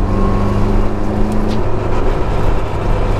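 Caterham Seven 275R small engine driving with strong torque and a deep, truck-like rumble, a steady loud drone with a sustained low hum throughout, near and continuous.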